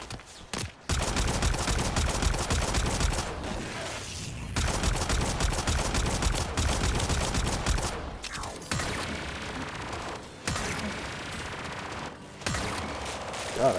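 Dense, loud Warframe gunfire during a Steel Path mission: long sustained volleys of rapid shots broken by short pauses, with no talking over them.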